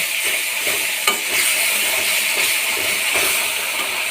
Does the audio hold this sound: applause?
no